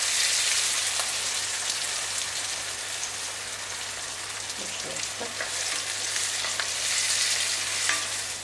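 Eggplant, mushrooms and onion fry in a pan, giving a steady, dense sizzle with occasional scraping as the food is stirred.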